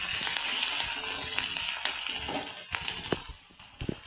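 Chopped onion and slit green chillies frying in oil with nigella seeds in a pan: a continuous bright sizzle, with sharp clinks and scraping taps of stirring toward the end, close and fairly quiet.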